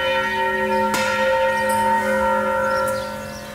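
Church bells of the Catedral Nossa Senhora do Pilar ring loudly with a sharp strike, leaving a long, sustained metallic hum that slowly fades on its own.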